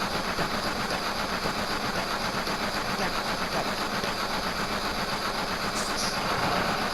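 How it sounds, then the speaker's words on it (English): A steady rumbling train runs in Final Fantasy VII, its continuous broadband clatter and low engine drone holding an even level with a faint rhythmic beat throughout, no voices present. "Never really noticed that if you actually are quiet enough, you actually listen to the train going"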